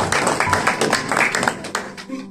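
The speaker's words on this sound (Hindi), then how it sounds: "तालियों को भी बजाओ" A church congregation claps along in quick rhythmic bursts during a Hindi-Urdu sermon, with a voice speaking over the close, steady clapping.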